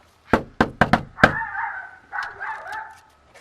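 Small Chihuahuas bark in a quick burst of five sharp yaps at a door, then trail off into whiny, fussing vocalizations; close and fairly loud, lasting only a couple of seconds.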